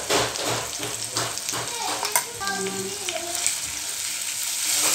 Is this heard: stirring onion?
yes